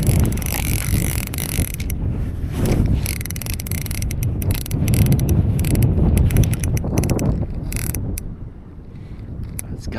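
A ratcheting, buzzing fishing reel drag gives out line as a pike runs on the ice, steady and close, with heavy microphone wind noise throughout.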